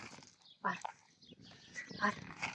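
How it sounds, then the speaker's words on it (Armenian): Stray dogs grunting and snuffling close by in short uneven bursts while eating, with a few rougher, louder growl-like noises. "իրենք այստեղի շներ են իրականում"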